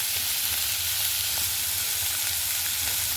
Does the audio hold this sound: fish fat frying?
yes